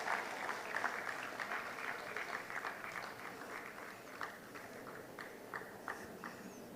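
An audience at a national eminence award ceremony claps in a sustained round of applause, fairly faint and distant, gradually thinning toward the end.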